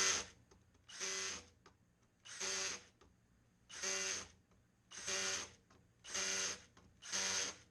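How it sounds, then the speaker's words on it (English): A power drill whirs in seven steady bursts of about a second each, with short pauses between, close and fairly loud, tightening screws on a 2nd generation Toyota Prius hybrid battery. "take my drill and go back behind it and tighten it up."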